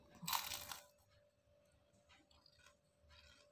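A sharp crunchy bite cracks loudly up close, followed by quieter crunching chews.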